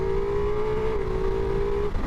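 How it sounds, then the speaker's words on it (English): A Ducati Multistrada V4S motorcycle accelerating hard in sport mode on an open road, heard from onboard as a steady, loud engine drone with a strong tonal whine that holds, then dips slightly, over heavy wind rumble. "and really open this bike."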